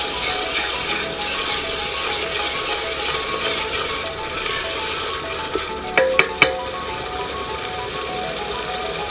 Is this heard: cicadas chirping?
no